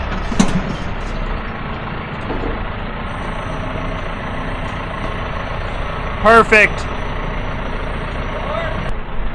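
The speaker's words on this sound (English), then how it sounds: "Now hopefully that truck will stay right where it's at until that bin is full." A truck idles steadily with a low rumble at a work site at night, while a voice speaks briefly over it and a short chirping burst sounds midway.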